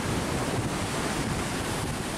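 Surf rolling onto Pantai Sungai Suci beach in Bengkulu, a steady, continuous broadband wash of waves with wind buffeting the microphone, loud and unbroken throughout without any voices.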